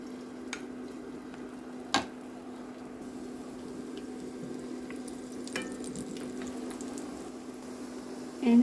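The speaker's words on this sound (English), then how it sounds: "And now let's fry our prepared patties." Tuna patties frying in a pan give a steady, even sizzle with a low hum underneath, broken by a couple of brief clicks and a louder scrape near the end.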